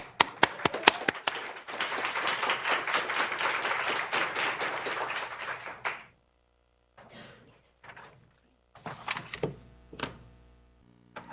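Audience applause greets a speaker at an event: a few sharp opening claps swell into steady clapping for several seconds, stop abruptly, then give way to scattered thumps and handling noises.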